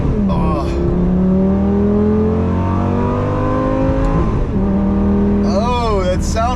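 Lamborghini Gallardo engine revs loud and close, its pitch climbing in a long sweep, dropping back, then surging again, with a brief whoop from a person near the end.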